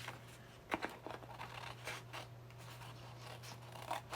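Scissors snipping around paper for a junk journal tip-in page, giving quiet, close scratchy cuts with a few sharper snips and a steady low hum underneath.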